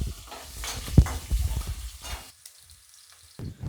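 Onions and curry leaves fry in oil with a crackling sizzle while a spoon stirs and scrapes the pan in uneven bursts, a sharp knock near the start, then the frying fades quiet before picking up again.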